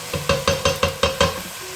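Onions braising for restaurant-style butter chicken, six quick rhythmic stirring scrapes over a close sizzle, evenly spaced and loud, with no voices.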